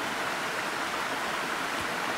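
Vajrai waterfall in Satara district, Maharashtra, roars as a steady, even rush of falling water, unbroken and moderately loud.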